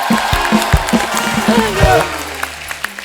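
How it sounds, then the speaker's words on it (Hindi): Studio audience at a comedy talk show bursts into loud, dense applause, with speech and laughter-like voices mixed over the clapping throughout. "इनकी सिंपलिसिटी के लिए एक बार जोरदार तालियां बनती है बड़ो"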